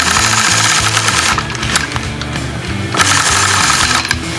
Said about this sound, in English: I'm going to quilt a couple more rows here, still using this small circular end on this sway baby